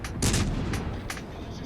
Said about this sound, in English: Okay, so now we're shooting at the York here. We're using the HE on him.